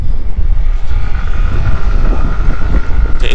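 A Yamaha NMAX Connected scooter engine labours up a steep incline, a steady close droning hum with heavy low rumble and wind buffeting throughout, no talking.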